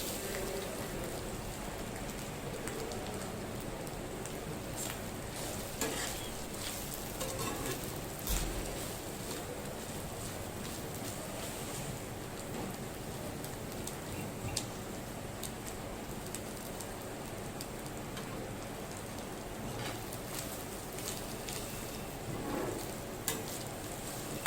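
Masala roasting in oil in a pan for mutton sukhe, a steady close sizzle and crackle of frying that runs continuously with faint scraping stirs now and then, no talking.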